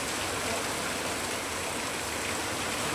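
Heavy monsoon rain pours down hard enough to flood a yard, a dense, constant hiss and patter of falling water filling the whole stretch with no pauses.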